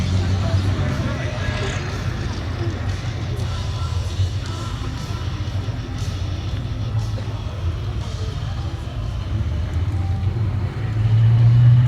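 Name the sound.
Stormer AFV armoured vehicle driving at Tankfest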